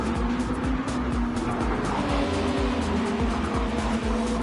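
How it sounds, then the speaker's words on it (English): Race cars in Gran Turismo 7 on the High Speed Ring squeal their tires through a corner. Loud, continuous engine roar carries layered tire screeching that persists throughout, with no talk over it. "Whoa, lots of tires squealing in that corner."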